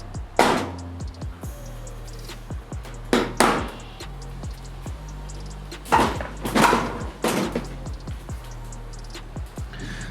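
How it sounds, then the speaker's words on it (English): Sharp knocks, cracks and plastic snaps as the front bumper is pulled off a VL with a big-turbo LS engine, several loud bursts of banging and tearing spread across the clip with quieter rattles between. "I'll rip the bumper off so we can have a quick look"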